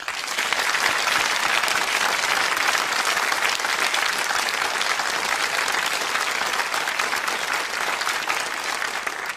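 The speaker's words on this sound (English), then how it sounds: "Our much acclaimed finalists, please greet and applaud John Braxton and John Mayhew." A television studio audience applauds the Countdown finalists, a steady, dense wash of clapping that holds evenly throughout and stops abruptly at the end, with no voices over it.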